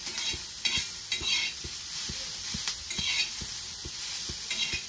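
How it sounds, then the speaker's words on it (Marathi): Chopped onion is stir-fried over a full flame in a pan for onion paratha: a bright, constant sizzle with rhythmic scraping knocks of a spatula turning it every half second or so, no voices. "तर 1-2 मिनिटासाठी आपल्याला कांदा असा आलटी पलटी करून घ्यायचा आहे"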